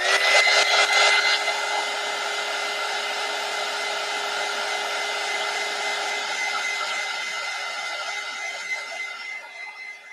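Hair dryer blowing steadily to dry gouache paint, a loud continuous whooshing whine with a steady tone, strongest at the start and easing slightly later, with no speech.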